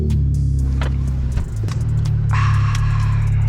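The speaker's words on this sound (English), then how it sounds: "Alright guys, we're gonna go drifting." A Chevrolet Camaro engine drifting, a steady low rumble that dips briefly, then climbs again as a higher whine rises over the last second, heard from inside the car.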